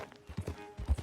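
Horse hooves clip-clopping in Red Dead Redemption 2, several uneven, fairly close thuds from a ridden horse with a low rumble beneath.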